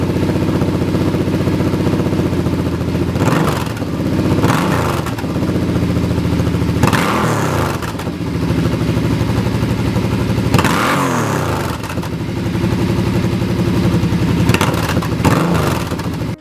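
A cruiser motorcycle engine, an M50, idles with a low, lumpy rumble, then revs up sharply several times, each blip rising and falling back to idle, close and loud.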